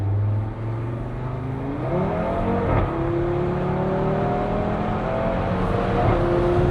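An Audi RS3 accelerates on Paris streets, and its engine note climbs steadily in pitch through the gears. The sound is close and continuous, with no talk over it.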